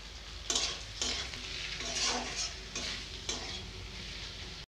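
Minced ginger and Kashmiri chili, turmeric and cumin powders frying with reddened onions in a pan for a homestyle cauliflower and meat curry, a steady close sizzle broken by several stirring scrapes, with no talk.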